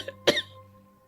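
A woman, an aunt, lets out one sharp close cough with a short throaty tail, alone against a quiet steady hum.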